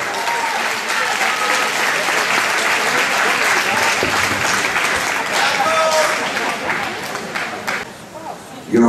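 A crowd at a senior Latin ballroom dance competition in Antwerp claps loudly and continuously, thick applause with a few shouts and voices mixed in before it thins near the end.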